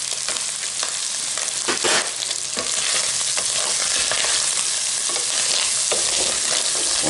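Onion sizzles and fries in oil in a pan for a seafood pasta dish, with a steady crackling hiss and repeated scraping strokes of stirring, close and continuous with no talking.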